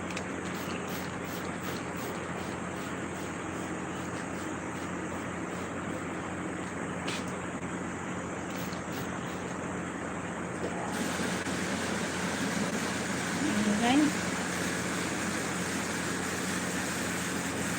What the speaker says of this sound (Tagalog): Motor kasi yan, motor maingay. Motor ng tubig.